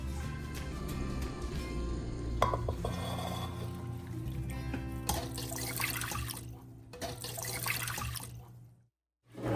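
Water sloshes and swirls over tur dal lentils in a bowl, with trickling and dripping from a tap, fairly quiet, ending in a short silence.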